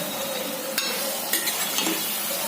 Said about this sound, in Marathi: आता मी कोळंबी घालते.